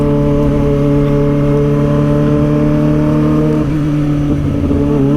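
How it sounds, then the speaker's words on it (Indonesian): A Jatek 25R motorcycle engine held at a loud, high, shrill rev, a strong steady whine that dips slightly near the end, close and continuous with no talking. "kalian dengar suara Jatek 25R udah melengking banget"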